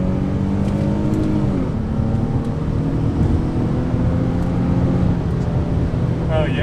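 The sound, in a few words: 2003 Infiniti G35 sedan engine revving to 6,000 RPM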